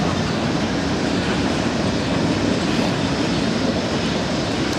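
A Norfolk Southern freight train passes the 9th Street railroad crossing in Lafayette, Indiana, a loud, steady rumbling roar that stays close and continuous, with no voices.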